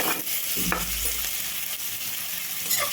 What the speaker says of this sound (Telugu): ఆయిల్ అయితే బాగా హీట్ అయిందండి ఎల్లిపాయ ముక్కలు అండి చిన్న చిన్న ముక్కలు కట్ చేసి పెట్టుకున్న ఎల్లిపాయ ముక్కలు